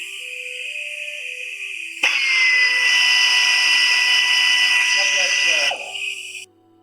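A power drill drives screws into wood while building a wooden bat house, one steady, loud whirring run lasting a few seconds before it winds down, with a constant whistle-like tone in the background.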